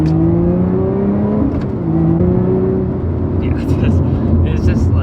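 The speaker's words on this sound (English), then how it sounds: "It means that you can really wind out the engine, wind out the power, and therefore wind out the sound" A Lotus Evora GT engine winds up through the revs with a rising, droning exhaust note heard from inside the cabin, loud and continuous, while a person talks over it.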